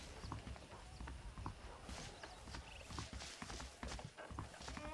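Saddled horse hooves clip-clopping at a steady walking rhythm in the Wild West video game Red Dead Redemption, quiet and continuous beneath a dense game soundscape.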